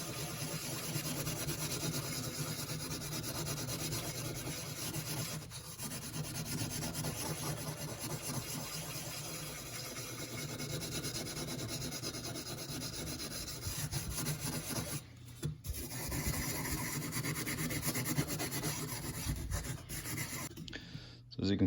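Steel wool, double-aught and then 4/0, worked with polish over rusty chrome on a show-quality part, giving a steady close abrasive rubbing and rasping that runs continuously with brief pauses, no talk over it.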